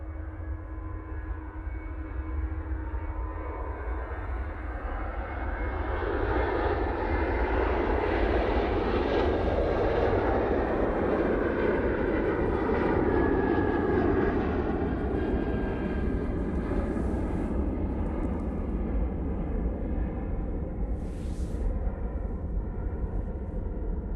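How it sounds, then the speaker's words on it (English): A KLM Boeing 737-800 jet rolls down the runway at Manchester Airport, its engine rumble swelling into a loud, near roar that peaks in the middle, then fades gradually. "KLM 737-800, now on the road, going back to Amsterdam Schiphol after night stopping."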